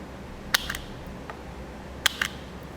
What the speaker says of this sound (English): I'll need to strip the ends of the wires back